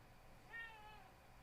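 A cat meows once indoors, a short, faint mewing call rising briefly above quiet room noise.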